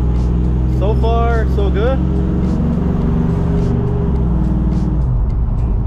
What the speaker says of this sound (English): here we are, test driving the truck